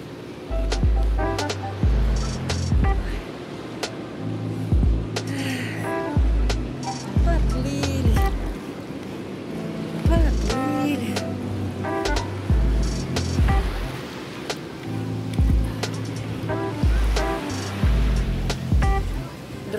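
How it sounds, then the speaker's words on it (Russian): Sea waves wash ashore in repeated surges every few seconds, a close, moderately loud rush of surf with brief tonal sounds mixed in. "Вы слышите музыку моря?"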